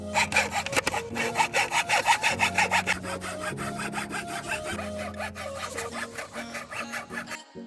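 Thin plywood pieces for a boomerang being hand-sawn, a close, rhythmic rasping of quick back-and-forth strokes with brief pauses between bursts, no talk.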